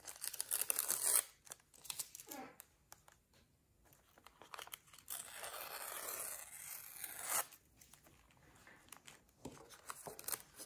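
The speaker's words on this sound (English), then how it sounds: "So let's take our tape off." Masking tape peeled off the edges of a small study painting: long ripping and crinkling strips in several bursts with pauses, close and fairly quiet, with no voice.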